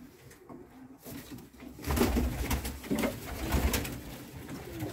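Pigeons coo in low, throaty repeated calls, close by in a breeding loft, the cooing swelling louder midway and continuing over a soft background rustle.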